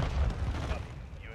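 A grenade detonates in the video game Call of Duty MW2, a short, deep boom that rumbles low and fades within about a second, with some game noise mixed in.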